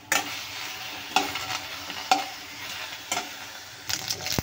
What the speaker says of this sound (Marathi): तर इथे थोडंसं तेल घालून मी मिरच्या भाजून घेणार